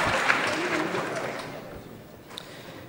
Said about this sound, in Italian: potremmo provvedere ad un applauso cumulativo finale.